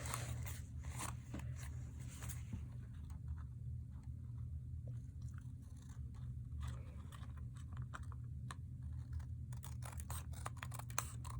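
Crisp snipping and crunching clicks in irregular bursts, close up, as scissors cut through paper against a low background hum.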